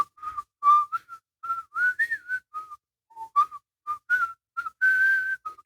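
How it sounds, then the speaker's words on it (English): A person whistles the melody of Pop Goes the Weasel, a close, clear run of short bright notes with brief gaps, ending on a longer held tone. "and then whistle, pop goes the weasel."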